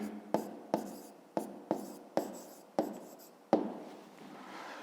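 Pen strokes scratch on paper during a fifth-grade math exercise, about seven sharp separate taps and scrapes in an uneven rhythm, close and quiet with no voice.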